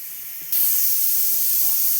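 An old, faulty pressure cooker cooking rice lets out a sudden, loud, steady hiss of steam that starts abruptly and continues, with a faint voice murmuring beneath it.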